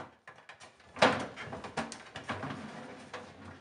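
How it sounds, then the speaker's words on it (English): Plastic freezer drawers, an ice tray and an ice cube holder come out of a refrigerator, making a quiet string of sliding scrapes, clunks and rattles with one louder knock near the start. "Now remove the ice tray, ice cube holder, and freezer drawers."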